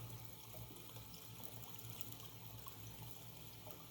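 Water trickles steadily through a micro mat sluice during a cleanup test run, a continuous faint running-water wash with no talk over it.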